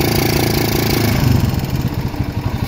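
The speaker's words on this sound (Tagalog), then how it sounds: "Ganyan din ba ang andar ng inyong motor?" Kawasaki motorcycle engine running close up, a loud, rough, throbbing idle with a steady pulsing rhythm and no talking.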